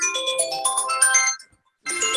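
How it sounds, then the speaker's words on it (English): A phone ringtone goes off at the wrong moment during a group gathering, a bright melodic electronic chime playing a rising pattern, pausing briefly into silence, then starting up again loud and close. "sometimes you have a phone that rings at the wrong time"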